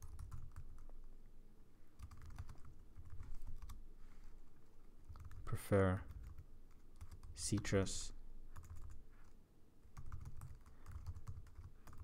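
Rapid clicking of computer keyboard keys while coding in Java, fairly quiet and close, in bursts with short pauses, and a voice talking between the typing runs.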